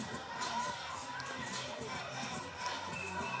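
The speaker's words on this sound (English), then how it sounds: "Big crowd here." Crowd murmur at a high school football game, a steady, moderately distant hum of chatter and movement from many spectators, with a voice speaking over it.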